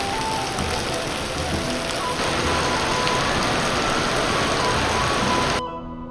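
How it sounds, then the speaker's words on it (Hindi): Steady, dense rain falls in the mountains of Dharamshala, Himachal, a loud, even hiss that holds for over five seconds before cutting off abruptly near the end. "जैसे ही हमने गाड़ी पार्क की, बारिश ने हमारा स्वागत कर लिया।"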